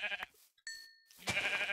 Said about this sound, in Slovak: oviec tu máme krásne